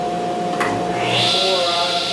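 A workshop dust collection system runs as a steady, loud whooshing drone that stays even throughout, with a faint knock near the start and a voice speaking over it.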